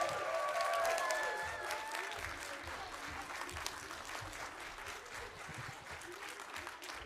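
An audience claps for a grade 4 class theatre and dance performance at a school festival, dense sustained applause with some cheering, loudest at first and then easing slightly while remaining a full crowd of clapping.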